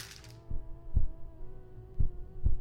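A slow, odd heartbeat in a post-apocalyptic take on the game Papers, Please, with four deep low thumps spaced irregularly over a steady electronic hum, close and fairly loud.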